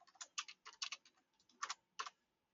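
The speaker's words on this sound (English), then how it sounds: "If I could type." Quick, uneven bursts of keystrokes on a computer keyboard while coding, close and clear, with brief pauses between clusters and no talking.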